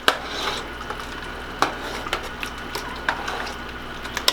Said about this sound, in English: we just stir him in